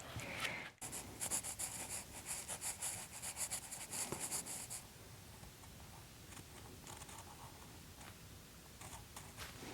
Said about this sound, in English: I'm gonna sketch this out